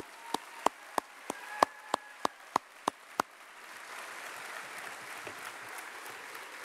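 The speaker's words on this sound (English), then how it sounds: "Let's give them a round of applause." An audience at a middle school promotion ceremony claps, with a slow run of about ten sharp, close claps from one person up front, then a softer, more distant crowd applause spreading out behind.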